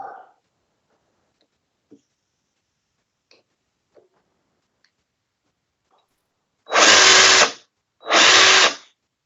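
A power drill with 26-gauge parallel wire held in its chuck, used to wind vape coils, gives two loud close whirring bursts of about a second each near the end, after faint scattered ticks and handling noises.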